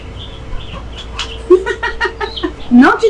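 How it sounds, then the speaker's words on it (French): Chickens and roosters roam a street in the Florida Keys, with clucking and a crowing call rising near the end, heard close over outdoor background noise while people talk nearby. "Il y a des poules partout."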